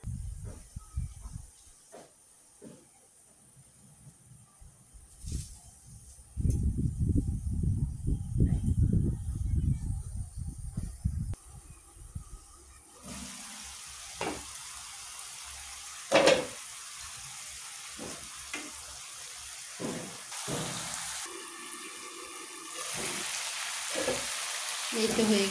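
Tengra fish sizzles in spicy oil with green chilies in a covered pan over medium heat, a steady frying hiss with a louder bubbling burst midway and occasional clatters and knocks near the end.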